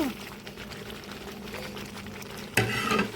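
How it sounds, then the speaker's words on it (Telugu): Spice paste frying and being stirred in oil for chicken pickle, a continuous low sizzle with soft scraping, then a louder clatter near the end. "పేస్ట్ కొంచెం పచ్చివాసన పోయే వరకు వేపుకుందామండి"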